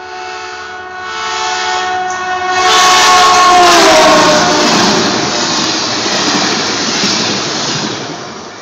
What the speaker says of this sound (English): if this is a speed train, which looks like it is, it'll pass us at superhuman speed